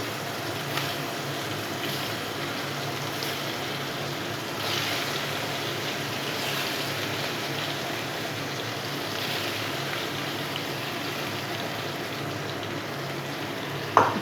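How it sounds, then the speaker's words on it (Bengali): Thin round slices of teasel gourd (kakrol) fry in hot oil, a steady, dense sizzling hiss that stays even throughout with no talking. "তেলের মধ্যে এবার আমি কাঁকরোলগুলো ছেড়ে দেবো।"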